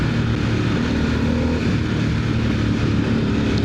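A 2025 Harley-Davidson Sportster S motorcycle drones on the move, a loud steady low engine rumble with wind noise and no pauses.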